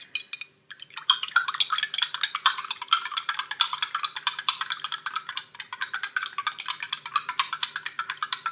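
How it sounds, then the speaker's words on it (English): A spoon stirs lemon juice into water in a cup, making rapid, steady clinking and swishing strokes that repeat close by for several seconds. "and then stir."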